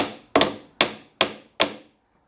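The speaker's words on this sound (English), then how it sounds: "A little tap with a hammer sometimes" Four crisp hammer taps on a motor mount, tightening the fan belt on a small Hollander beater for papermaking, ring out at an even, deliberate pace, close and loud with short decays.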